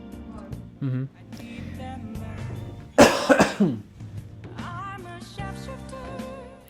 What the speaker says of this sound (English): I apologize for coughing and possibly coughing way too loud into the microphone